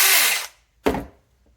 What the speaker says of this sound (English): 2 branches, Saker, 4-inch electric chainsaw.